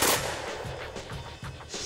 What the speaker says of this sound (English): At the start signal, Jerry shoulders and starts shooting at a 10-inch plate 10 yards in front of him.